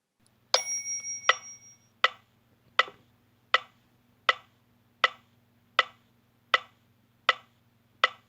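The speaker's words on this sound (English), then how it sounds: "This is how the metronome will sound." Metronome ticking for dholak practice, about a dozen sharp, evenly spaced clicks at a steady slow tempo, with a brief ringing accent at the start and no talking.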